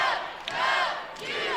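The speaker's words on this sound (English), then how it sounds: "As you can hear the crowd say, WWU." Volleyball crowd at a college match between WWU and Cal State San Bernardino, fans chanting WWU in rising and falling rhythmic bursts that echo through an indoor arena.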